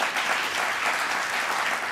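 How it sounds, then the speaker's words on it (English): Audience applause at the 2013 Global Diaspora Forum greets a local Baltimore Ravens American football safety, a dense, steady wash of clapping filling the room without pause. "Give him a round of applause"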